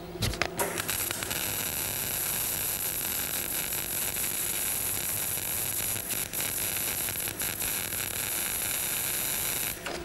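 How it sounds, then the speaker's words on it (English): Steady crackling static-like buzz from welding during car body repair, a continuous hiss at an even level with no break, no voices present. "I'm ready to do the final welds now."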